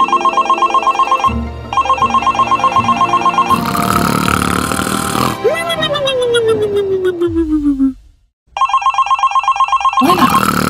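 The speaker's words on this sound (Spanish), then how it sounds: "Ah, es el teléfono." A telephone rings loudly in repeated bursts in a My Little Pony toy cartoon, interrupted by a descending whistle-like sound effect and a brief silence before the rings resume.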